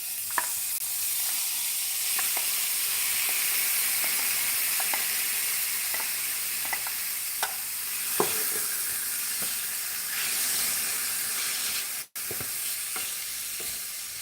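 Mushrooms for Mexican tacos fry in a hot pan with a steady, loud hissing sizzle, and scattered clicks and scrapes come through as the pan is stirred.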